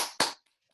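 Two quick, sharp hand claps close by, followed at once by silence.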